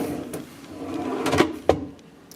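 A hotel room drawer slides and bumps shut, a brief scraping rustle followed by a couple of sharp wooden knocks, close by in a quiet room.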